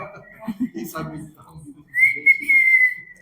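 During a church sermon, a person talks briefly, then lets out a clear, sustained whistle with a slight wavering pitch, close by and fairly loud.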